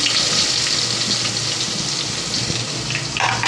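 Onion is dropped into hot spiced tempering oil with asafoetida for misal and crackles in a loud, dense, continuous sizzle close by, with no one speaking.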